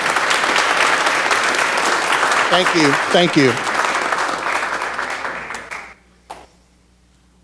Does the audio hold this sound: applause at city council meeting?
yes